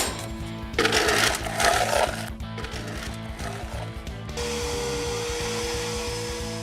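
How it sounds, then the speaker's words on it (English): A vacuum cleaner sucks pellet dust out of a Memphis wood-fire pellet grill, its motor roaring steadily up close with a whining drone and surging louder as the nozzle shifts. "we want to vacuum out the pellet dust"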